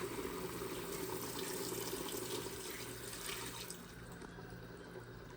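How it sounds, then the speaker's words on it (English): Steady stream of hot water pouring into a cooking pot of Guyanese goat pepper pot, continuous and close, gradually easing in intensity toward the end. "Time to add in the hot water."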